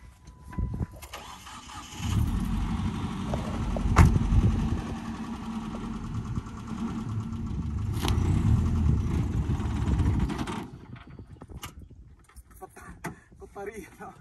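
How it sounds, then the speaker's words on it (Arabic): A car engine in the desert cranks and catches, then settles into a steady idle that runs for several seconds before cutting off, with voices talking around it. "بعدها شغل السيارة."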